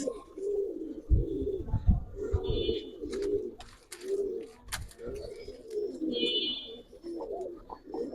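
Pigeons at a pigeon farm giving repeated low throaty coos, several birds overlapping in a steady rhythm, with faint chirps and a few shuffling knocks nearby.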